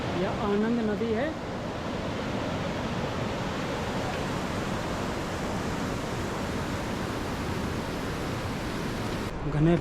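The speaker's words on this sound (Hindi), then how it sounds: "यह आनंद नदी है।" A mountain river rushes steadily through the Valley of Flowers in steady, full, close flowing water. A voice speaks briefly at the start, and the water runs alone after that.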